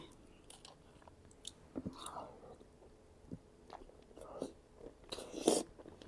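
Close, quiet chewing and biting of a Vietnamese duck egg dipped in homemade pounded jaew sauce, eaten with fragrant phak phaeo herbs, with soft irregular mouth sounds, small crunches and a louder bite near the end.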